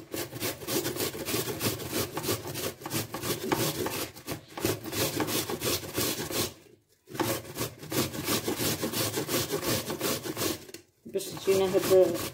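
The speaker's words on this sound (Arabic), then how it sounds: "غادي نحكو هاد البصيله" An onion is rubbed against a hand grater in a home kitchen, steady rasping scrapes in repeated strokes, close and fairly loud, with two brief pauses between runs.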